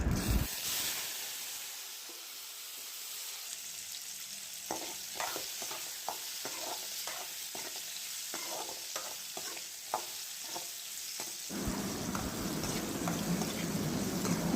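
Boiled gooseberries fry in sesame oil with mustard seeds, giving a steady close sizzle and hiss broken by a run of sharp stirring scrapes and taps, which gives way to a louder, fuller frying sound at the end.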